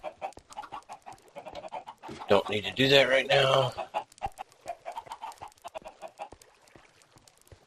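Chickens in the Minecraft video game cluck in short bursts, with one louder squawking stretch in the middle, heard between and under a man's brief speech.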